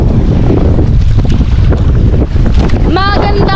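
Loud, gusty wind roars across the microphone on a fishing boat at sea, with water splashing beneath and a voice calling out near the end.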